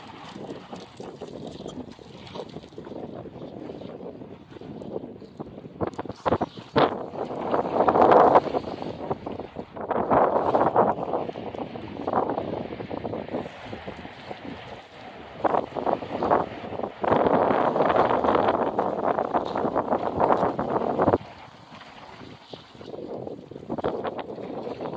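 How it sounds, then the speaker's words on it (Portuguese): Strong wind on Barra Nova beach buffets the microphone with a rough, steady roar that swells into louder gusts and then briefly eases, with no other sounds clearly standing out. "O vento tá forte aqui, galera."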